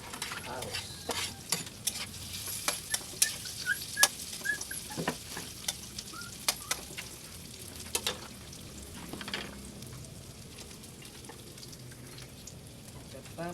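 Onion, ginger and garlic frying in a pan for adobo, a soft steady sizzle with frequent sharp clinks and scrapes of a spoon stirring against the pan, close by, with faint voices in the background.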